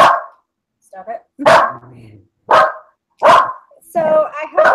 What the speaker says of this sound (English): I hope you can't hear the dog barking in the background